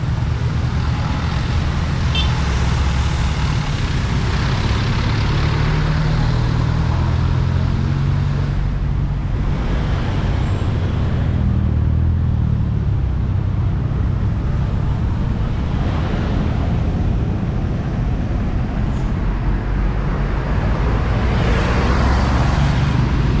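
Road traffic rumbles steadily on a busy street in Batam, with passing vehicles and a city bus nearby, broad continuous roar and some wind on the microphone, no speech.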